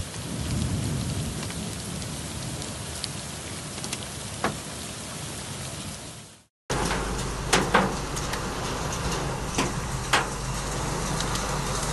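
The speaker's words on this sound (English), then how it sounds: "بدأ البرد بدأ ضرب البرد الجمومة الآن" Hail striking outdoors at six in the morning during a storm in Saudi Arabia, a dense steady patter of pellets with a few sharper, louder knocks standing out, briefly cut off and then resuming close by, with no talking.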